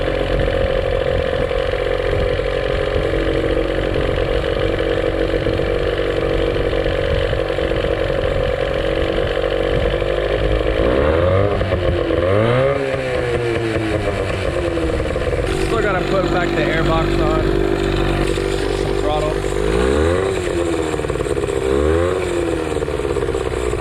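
A Johnson outboard motor runs after a carburetor cleaning, a close, continuous engine drone that rises and falls with several throttle blips and revs, while a person talks over it.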